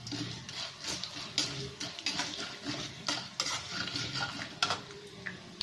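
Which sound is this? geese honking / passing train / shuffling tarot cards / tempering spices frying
tempering spices frying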